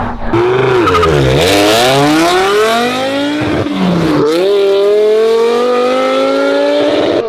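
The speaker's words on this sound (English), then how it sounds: "we're about to hear this thing rip right now. V10, ITB, all 10 cylinders," A loud high-revving V10 engine in a swapped BMW E46 M3 with individual throttle bodies screams past close by, pitch climbing and falling with a sharp whine as it roars through and away.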